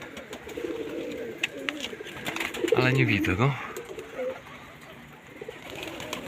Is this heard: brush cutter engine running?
no